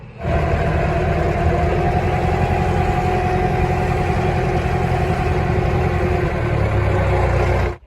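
A fuel-efficient diesel farm tractor runs at a steady, loud idle-to-working rumble, close by and continuous for several seconds with no voices, then cuts off abruptly at the end.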